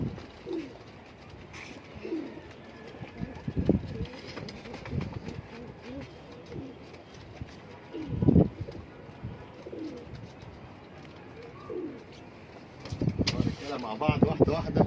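Pigeons coo in repeated low, throaty bursts, some close and loud, others softer, with wind and faint background noise between calls.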